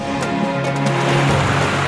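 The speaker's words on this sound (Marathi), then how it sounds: "पर्यटकांना भावतो तो म्हणजे दाभोसा धबधबा" Dabhosa waterfall in Jawhar, swollen by monsoon rains, gives off a steady, loud rushing roar of falling water, with faint tonal music-like sounds layered over it.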